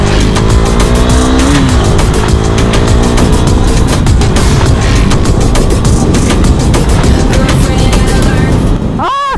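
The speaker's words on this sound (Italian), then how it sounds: "Che bello viaggiare in moto!" A motorcycle's loud, fast engine roars steadily at close range with rushing wind noise throughout, ending in a brief rising whine.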